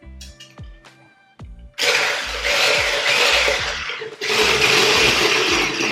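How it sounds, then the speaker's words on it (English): A few dull knocks and clatters, then a loud blender whirs into action mixing an Oreo milkshake, running steadily with a brief dip before revving back up close by. "Now we are going to mix the all ingredients inside the cup"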